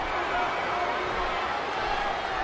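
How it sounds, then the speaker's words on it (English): A wrestling crowd at an anything-goes match cheers and roars in appreciation, a dense, steady wall of noise that fills the whole stretch, loud and close. "Would you listen to this crowd show their appreciation for these amazing competitors?"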